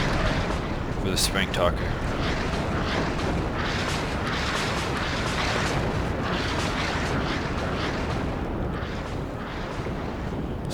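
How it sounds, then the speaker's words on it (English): Artillery strike explosions in the video game WARNO, a steady, dense roar of overlapping blasts and rumble lasting throughout, with someone talking over it. "Another artillery strike comes down."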